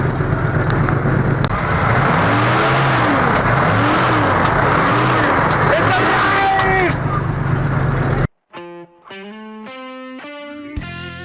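A K5 Blazer nicknamed the War Child idles loud and close just after a jumpstart, a steady gritty engine roar with wavering tones, cut off abruptly by a short musical passage.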